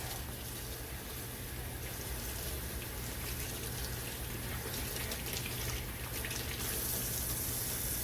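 Water runs from a kitchen tap into the sink while something is rinsed, a steady, close, continuous splashing rush with no voices.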